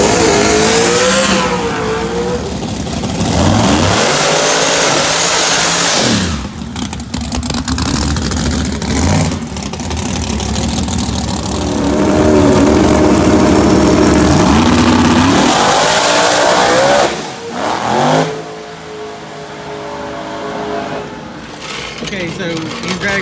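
Small Block Nitrous class drag racing cars roar down the strip, their engines revving up in loud, rising sweeps that drop away and build again over about twenty seconds.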